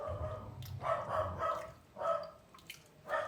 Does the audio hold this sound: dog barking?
yes